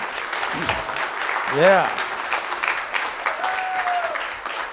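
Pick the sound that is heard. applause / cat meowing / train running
applause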